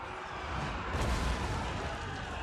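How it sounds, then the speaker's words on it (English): Mortar artillery fire on a Total War: Warhammer 2 battlefield, a dense, continuous low rumble of distant bombardment that swells slightly partway through, with no voices. "Mortar!"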